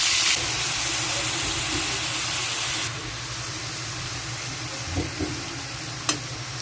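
Marinated beef tapa frying in a pan, a loud close sizzle and steam hiss that drops in level partway through and continues more softly, with a couple of brief utensil clicks toward the end.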